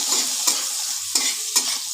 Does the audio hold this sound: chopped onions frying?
yes